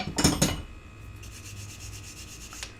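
A metal ring is polished on a wood ring mandrel, making a close, steady rubbing and scraping that starts with a few stronger strokes and then settles into a continuous, softer friction.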